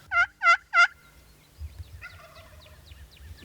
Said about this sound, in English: turkeys gobbling across the creek.